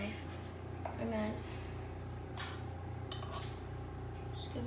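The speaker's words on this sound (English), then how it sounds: "just cut around the edges with this butter knife" A butter knife scrapes and clinks around the edges of a metal muffin tin while a muffin is loosened, with light metallic scratches under steady talking and kitchen background.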